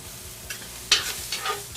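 Food, added to onions, lands in a hot pan and sizzles, with a sharp hiss as it hits and some stirring scrapes, brief and close.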